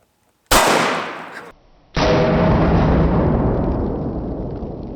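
A Benelli SuperNova 12-gauge pump shotgun fires a Winchester PDX1 Defender shell, a 1-ounce slug with three double-aught buckshot pellets. It gives one sharp, loud blast outdoors, then a second booming report that rolls and decays slowly.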